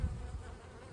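Honey bees buzz steadily inside a hive where they have begun drawing out comb and storing nectar, a dense, continuous low hum held close and even throughout.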